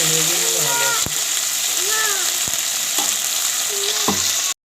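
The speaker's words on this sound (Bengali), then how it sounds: "আমি সব সবজি একসাথে দিয়ে তেল দিয়ে এবার ভাজা শুরু করেছি" Vegetables fry in oil in a pan for a traditional pachan, giving a steady, close sizzle throughout, with a few sharp clanks of stirring and voices talking over the frying.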